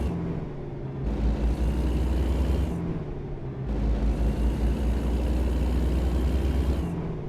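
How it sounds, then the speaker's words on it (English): Heavy truck engine in American Truck Simulator droning steadily with a deep low rumble, swelling louder in two long stretches as the revs climb and easing back between them, with no talking. "Listen to the engine for a little bit, for a few miles,"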